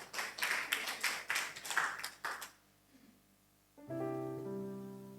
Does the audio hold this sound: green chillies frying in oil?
no